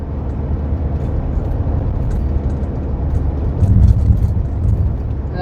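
Steady low rumble of a Ford SVT Lightning pickup cruising on the road, engine and tyre drone holding constant with a slight swell toward the end, no voices.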